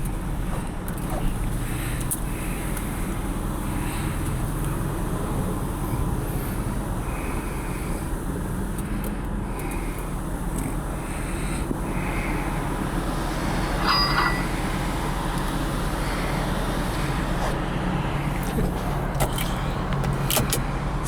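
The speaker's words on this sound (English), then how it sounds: "I'll show you the sunroof does work." Sunroof motor on a 2005 Jeep Grand Cherokee Limited 4x4 Hemi opening, a steady muffled whir inside the cabin blended with a constant low engine hum, with no talking.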